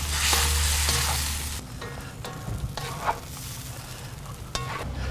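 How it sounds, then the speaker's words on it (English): Shrimp scampi sizzles in a cast iron wok on a Kamado Joe grill, a loud steady frying hiss punctuated by metallic clinks and scrapes as the shrimp are tossed, no voices. "And we're going to toss this and let it simmer in this mixture for just a couple of more minutes"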